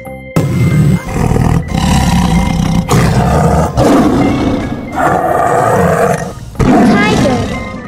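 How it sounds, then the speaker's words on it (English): A tiger roars again and again in loud, close, rumbling bursts separated by brief pauses. "Tiger."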